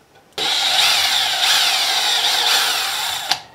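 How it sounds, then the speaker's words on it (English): A drill driver boring a pilot hole into wood for a door hinge, a loud high-pitched whirring that starts suddenly and runs steadily for about three seconds, with the pitch wavering slightly as the bit bites, ending in a short clack. "I would take a drill driver and I would insert my bit, all right, and then I would drill my pilot holes,"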